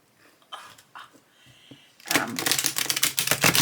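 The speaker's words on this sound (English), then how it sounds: "You can shuffle them in the what I call the Vegas shuffle, which is just like this" A few soft taps and handling sounds, then a loud, fast riffle shuffle of a tarot deck ripples up close for over a second.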